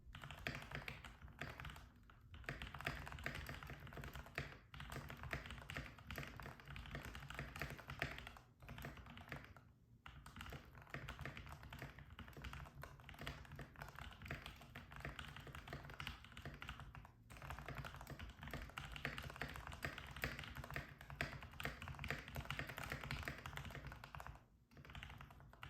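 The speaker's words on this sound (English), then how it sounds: "Now it's time for an actual typing test." Continuous fast typing on an RGB mechanical keyboard, a dense stream of crisp key clicks and thocks with brief pauses, close up and alone without voices.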